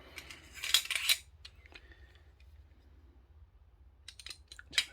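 Metal parts of a Cybergun M1911 airsoft gas pistol click and clink as a spacer is fitted, with quiet scattered taps and a couple of brighter rattling bursts at the start and end, close and faint.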